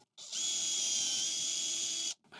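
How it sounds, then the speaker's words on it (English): A power drill pre-drilling a hole in wood whines steadily for about two seconds, starting and stopping abruptly, close and clear with no talking. "pre-drill a hole in the second piece"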